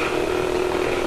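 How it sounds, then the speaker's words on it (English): Pulsing spark gap on a high-voltage atmospheric electricity collector using graphene and graphite, giving a steady, even buzzing hum that runs unbroken and fairly close for the whole short stretch, with no talk. "The sound you hear is the pulse of the spark cap."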